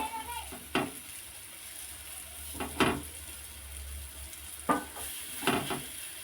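Eggplant slices sizzle as they fry in a pan, a soft steady crackle broken by several sharper bursts as pieces are laid in or moved, with no talking.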